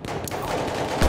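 A burst of machine gun fire in a tank battle video game rattles in a dense, continuous stream, loud and close, with a heavier thump at the end.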